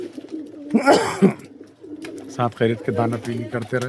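Pigeons in a loft coo softly nearby as someone talks over them, the cooing brief and close between his words.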